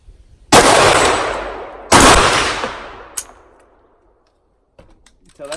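A firearm bolt slams home on an empty chamber twice, each a sharp loud metallic clang with a ringing decay, followed by a lighter click and faint handling noises.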